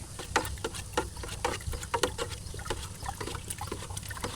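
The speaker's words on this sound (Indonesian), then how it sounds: "Kita larutkan ke dalam air demikian" A spoon stirs a spoonful of chili fertilizer into water inside a watering can, a steady run of close, sloshing clinks and swirling liquid with irregular knocks against the can.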